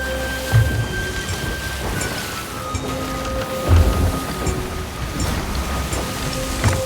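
Stormy weather in the Sea of Thieves pirate game: steady heavy rain hisses throughout, with low thunder rumbles swelling near the start and again around the middle, plus faint tonal game sounds threaded underneath.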